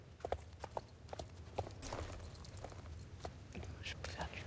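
Pony hooves clip-clopping at a walk in the Star Stable Online video game, a steady rhythm of light thuds close by, with a person talking quietly over it throughout.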